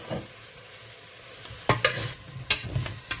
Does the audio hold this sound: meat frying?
yes